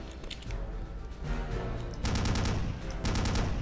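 Machine gun nest firing in Return to Castle Wolfenstein, a WWII first-person shooter: dense, sustained automatic bursts rattle at close range with sharp repeated cracks, growing heavier in the second half, with no talking.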